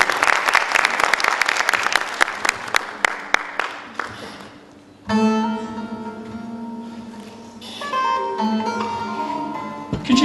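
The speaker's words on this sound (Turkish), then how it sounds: "kuvvetli alkışlarınızla buraya davet edeceğim" An audience at a poetry reading event claps briefly in scattered, fading applause to welcome a poet, then a sustained melodic instrumental passage takes over, loud and close.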